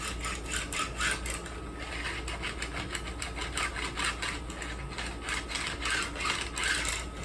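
A metal file bevels guitar fret ends during a refret, giving a steady run of close, rhythmic rasping strokes at moderate volume with no talking.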